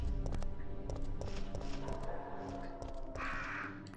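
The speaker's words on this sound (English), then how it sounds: "As I'm being chased by the birds," Crows cawing in Resident Evil 3: Nemesis, several harsh caws repeating over a dense game soundscape with tapping, clattering footstep-like noises, fairly loud and continuous.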